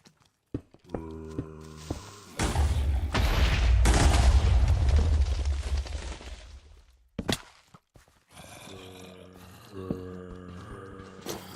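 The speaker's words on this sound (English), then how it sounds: "Many explosions." Explosions in Minecraft, a loud, sustained rumbling blast that builds and then fades, followed by a sharp crack, with short game sound effects before and after.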